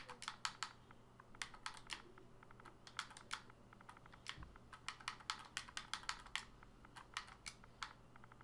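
Fast typing on a computer keyboard, with quick irregular bursts of crisp key clicks heard close but fairly quiet over a low steady hum.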